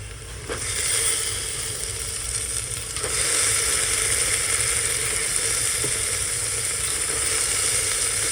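Chickpeas go into masala frying in a pan, setting off a loud, steady sizzle that swells briefly as they hit the hot oil, with occasional soft stirring knocks.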